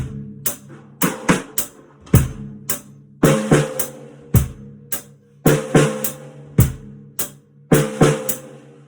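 Sped-up drum kit beat of snare and bass drum, practised as an advanced home tutorial groove; crisp snare cracks and deep kicks repeat in quick, regular bars, close and loud with no voices.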